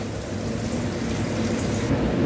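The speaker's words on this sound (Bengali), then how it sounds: "চলো মাছটা ভাজা হোক।" Fish frying in a pan over a charcoal fire gives a dense, steady sizzle that holds loud and unbroken throughout, with no voices.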